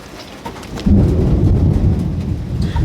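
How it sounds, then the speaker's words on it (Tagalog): Thunder during heavy rain: a deep rolling rumble breaks in about a second in and keeps grumbling loudly over the steady hiss of falling rain. "kumukulog."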